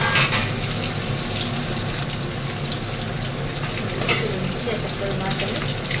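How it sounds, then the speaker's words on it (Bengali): Fish fries in a pan with a constant close sizzle and spatter, and occasional louder bursts of crackle over the hiss. "এই একই পদ্ধতিতে আমি আবার বাকি মাছগুলো ভেজে নেব।"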